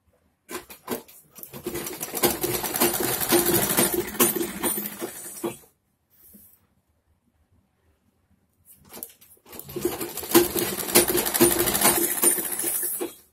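A sewing machine stitching a samosa-cut churidar pajama, whirring in two steady bursts of several seconds each, close and loud, separated by a short near-silent pause with a faint clink.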